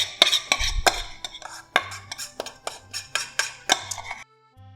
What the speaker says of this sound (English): Mix it into the dry ingredients.